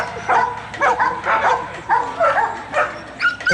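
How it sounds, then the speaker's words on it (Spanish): A search and rescue dog in Red Cross cadaver-detection training barks and yips in a rapid series of sharp, close barks with brief gaps, some whimpering between, and no talk over it. "un voluntario se esconde bajo tierra para que el perro lo busque"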